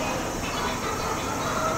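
Steady rumble of a moving train in Japan, heard from on board as a continuous, even, fairly loud roar of wheels and carriage noise with no breaks.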